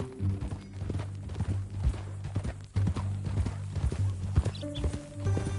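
Horse hooves clip-clop steadily in Red Dead Redemption 2, a close, rhythmic walking gait with an occasional whinny, a low game tone humming beneath.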